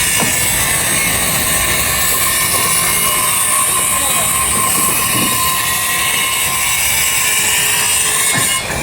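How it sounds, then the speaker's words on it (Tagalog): A circular saw with a dull blade cuts wood for floor installation, a loud, continuous grinding whine with rough, scraping texture that runs without pause for several seconds. "Medyo parang mapurol na po yung tunog ng ating circular."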